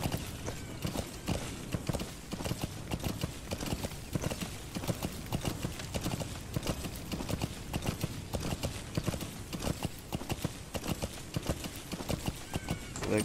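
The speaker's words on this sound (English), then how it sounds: "Come here now, come horse, come livestock." Horse hooves clip-clop steadily through a Metal Gear Solid 5: The Phantom Pain game scene, a continuous rhythmic trot heard close throughout, with faint game ambience underneath.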